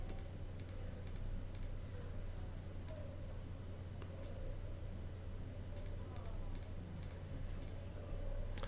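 A computer mouse or keys click in short, crisp taps, about a dozen spread irregularly, faint and close over a steady low hum during face-fitting work in Create Actor software.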